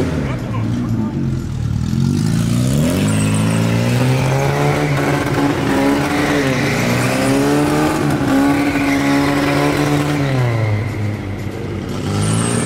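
Chevrolet Chevette revving hard while being driven for drifting: loud, close engine roar rising and falling in pitch through repeated throttle surges, with a faint tire squeal and excited voices shouting over it.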